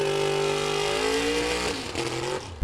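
Engine of a 1940 Willys Coupe drag car named Grit at a vintage drag race, a loud sustained tone rising slowly in pitch, then breaking up and dropping away near the end.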